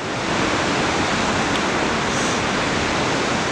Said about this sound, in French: Des vagues assez courtes, propres.